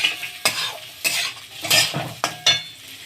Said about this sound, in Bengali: আমি গাজরটাকে এবার একটু নুন দিয়ে ভেজে নেব